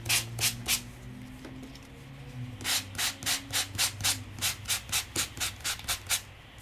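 Sandpaper rubbed by hand on a paper crafting project, heard up close as a quick run of three strokes, a pause, then a steady, rhythmic series of about a dozen scratchy strokes.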